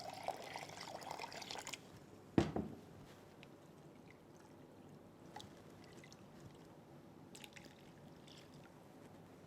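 Water poured into a pan of ginger paste for homemade ginger ale squash: a soft, steady pour in the first two seconds, then a single sharp clunk, followed by quiet low room noise.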